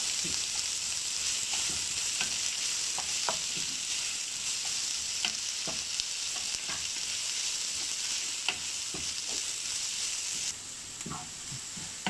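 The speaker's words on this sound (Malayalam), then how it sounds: "അപ്പോൾ ഇത് നല്ലോണം വഴറ്റി എടുത്തിട്ടുണ്ട് സവാള" Onions sautéing in a pan for Kerala avoli fish pollichathu, a steady bright sizzle with frequent scraping stir strokes of a spoon throughout, close and continuous with no talking.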